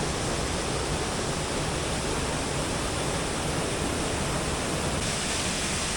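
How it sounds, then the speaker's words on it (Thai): Steady, dense rushing water from a forest waterfall in Laos roars continuously, loud and unbroken with no voices. "ฟังเสียงน้ำตกฟังเสียงธรรมชาติ"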